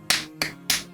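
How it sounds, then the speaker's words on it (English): Three sharp, close hand claps spaced roughly a third of a second apart, each crisp and isolated against a quiet room. "Hey, yo, round of applause."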